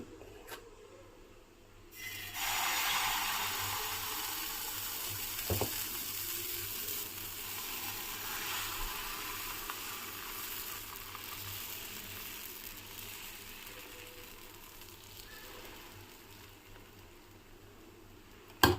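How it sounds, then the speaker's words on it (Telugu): Ragi dosa batter hits a hot pan and bursts into a loud, steady sizzle that holds with little change and slowly eases toward the end. "అయితే ప్యాన్ అయితే కొంచెం వేడెక్కిందండి. ఇప్పుడు మనం దోశ వేసుకుందాము."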